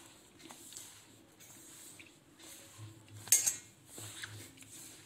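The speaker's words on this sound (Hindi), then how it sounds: "अच्छी तरीके से हम इन सारी चीज़ों को मिक्स कर लेंगे।" Wheat flour and ingredients for methi puri being mixed by hand in a bowl, making soft squishy patting with a few light clinks of utensils, close and quiet; no voices.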